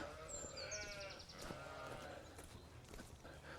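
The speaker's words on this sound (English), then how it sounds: "it's feed up time for the sheep here" Sheep bleating at feeding time on a wet farm, several harmonic bleats near the start and a steady murmur of flock and outdoor noise throughout, no talk.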